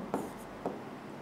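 Chalk or marker strokes on a board during a physics lecture on vectors, two short faint scratchy strokes in a quiet room.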